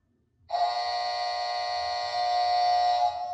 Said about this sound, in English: see if we can get the alarm to go off